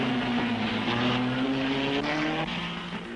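A Cooper racing car at the 1961 Belgian Grand Prix, Marston Gregory driving the Cameradi entry, roars steadily past with a sustained engine drone whose pitch shifts slightly as it goes by, loud and close, with no voices.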